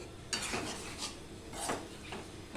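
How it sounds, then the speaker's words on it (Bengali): A spoon scrapes and stirs fried pointed gourd (potol) through spice masala in a pan, giving a few rhythmic rasping strokes with soft sizzling behind. "এক থেকে দেড় মিনিট কষিয়ে নেব কেননা পটলের গায়েও মশলা টশলাগুলো লাগবে"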